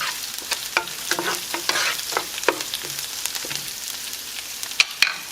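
Ingredients for pasta pomodoro sizzle in a hot pan as a utensil stirs and scrapes, producing irregular clicks and taps over a continuous frying hiss, close and moderately loud with no talking.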